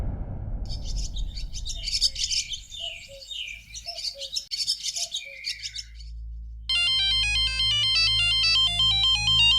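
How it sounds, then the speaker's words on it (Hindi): Mobile phone ringing at night indoors with a repeating electronic melodic ringtone that starts suddenly and continues steadily, preceded by chirping bird-like tones and low background noise. "माधुरी, तुम्हारा फोन है?"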